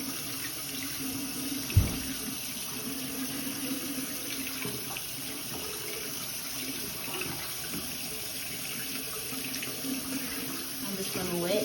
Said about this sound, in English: So first I'm just gonna turn the water on, adjusting the temperature.